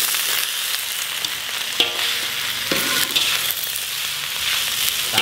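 Flat kwetiau noodles stir-fried in a hot wok with bean sprouts, cabbage and greens, giving a loud, steady sizzle with scraping and tossing from the spatula throughout, and no voices.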